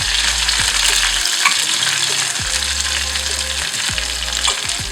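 Dried red chillies and curry leaves sizzle and fry in hot oil in a pan for a Kerala moru curry, a loud steady crackle broken by repeated scrapes of a stirring spoon.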